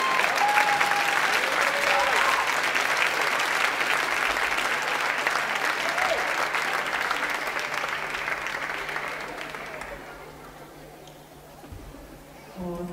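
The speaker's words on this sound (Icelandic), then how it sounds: "gefið mér gott klapp" Loud, sustained crowd applause fills a gymnastics autumn meet hall, holding steady for several seconds before thinning out and fading to near quiet by the end.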